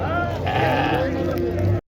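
Sheep bleat repeatedly at a busy livestock bazaar in Shofirkon, loud and close, their wavering cries layered over crowd chatter and people talking nearby.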